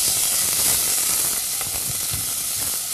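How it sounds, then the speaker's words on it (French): Onions sizzle in a hot pan for risotto, a steady bright hiss of frying close by with faint crackles and no talk. "Une fois que ça fume, venir faire saisir les oignons et les laisser légèrement compoter."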